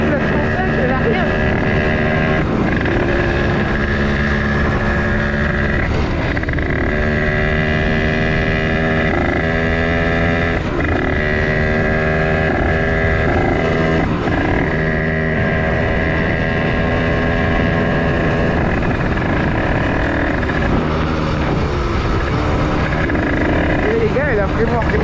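A motorcycle engine runs steadily and loudly for the whole stretch, its pitch rising and falling as the throttle changes, with wind buffeting the microphone.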